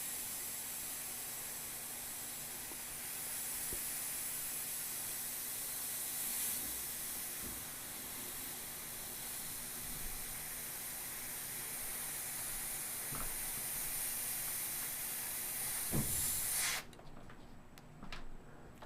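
An airbrush sprays paint to build soft, connected cloud shapes, giving a long steady close hiss that sputters slightly near the end before cutting off abruptly.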